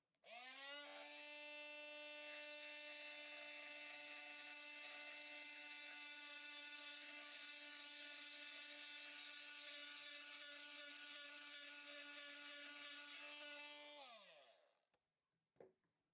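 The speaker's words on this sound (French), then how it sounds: "On va essayer de les poncer avec le disque qui a été fourni avec." A Parkside PAMFW 20-Li B2 cordless multitool sands with its supplied diamond disc and no dust extraction, giving a steady, high-pitched buzzing whine for about fourteen seconds. The motor then spins down, and a single brief knock follows.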